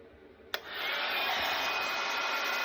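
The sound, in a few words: heat gun heating embossing powder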